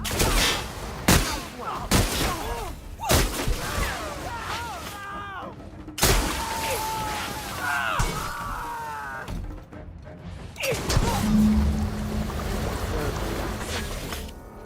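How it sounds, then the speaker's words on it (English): Sci-fi gunfire in The Outer Worlds video game, a string of sharp loud shots in bursts amid clattering impacts and game effects, with character voices speaking between volleys. "Returning fire!"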